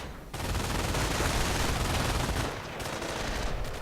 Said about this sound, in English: Defensive machine guns on the buildings